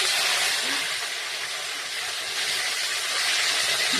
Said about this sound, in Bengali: কপিটা আলুটা বেশ আলাদা আলাদা করে ভেজে দিচ্ছি